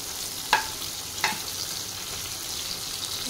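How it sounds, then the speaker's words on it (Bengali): Tomatoes and spices fry in a pan with a steady, close hiss of sizzling oil for a vegetarian dish. Two sharp utensil clinks break the sizzle early on. "একবারে সব দিয়ে একটু ভাজা ভাজা করতে থাকবো"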